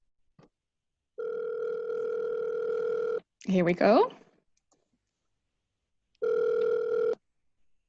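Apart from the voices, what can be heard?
phone call ringing in a virtual fair app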